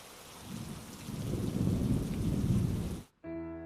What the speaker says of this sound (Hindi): बारिश तेज हो गई।